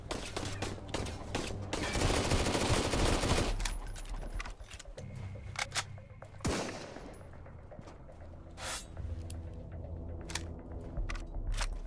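Rapid gunfire from the Sunkenland game crackles in a loud sustained burst, then breaks into scattered single shots and clicks amid background game sounds.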